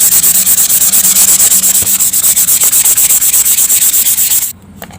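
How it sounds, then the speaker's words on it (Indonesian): Hand sanding of plywood coated with wood filler gives fast, rhythmic rasping strokes, loud and close, that stop abruptly near the end. "kita coba gosok ya."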